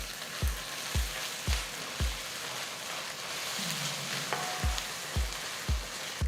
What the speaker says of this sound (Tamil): 2 டீஸ்பூன் இஞ்சி பூண்டு விழுதை சேர்த்து வதக்குங்க.